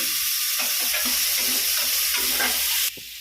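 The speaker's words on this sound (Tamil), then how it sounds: "தக்காளி கொஞ்சம் போடுறேன்ப்பா. சின்ன தக்காளி, ஒரு 2 தக்காளி" Two small tomatoes fry in oil in a pan for mutton curry, a loud continuous close-up sizzle with faint stirring scrapes, the hiss dropping abruptly just before the end.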